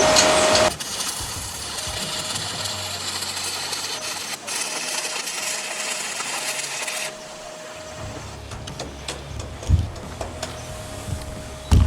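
Stick welding with thin rod on an HTP Pro Pulse 220 MTS welder, a steady dense crackling buzz that runs continuously for several seconds, then shifts to a quieter, rougher sputter with a few pops near the end.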